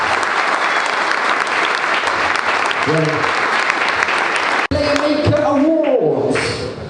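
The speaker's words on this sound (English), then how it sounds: "Round of applause for that." Loud, sustained applause from an awards ceremony audience rolls on for several seconds, with a voice briefly cutting in partway; after a sudden break the clapping thins as people begin talking over it.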